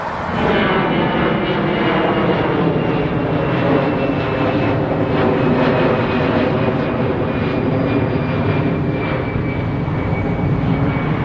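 An airplane passes low overhead in Santa Barbara, its loud, steady engine roar filling the whole stretch without a break.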